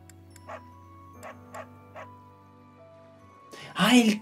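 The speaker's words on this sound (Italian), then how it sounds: "è il cane" Several faint, distant dog barks spaced apart, then a loud voice exclaims up close at the end.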